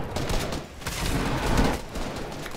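Rapid gunfire sprays in Fortnite during a competitive trio FNCS finals match, heard as a dense, loud burst of overlapping shots that runs through the whole moment.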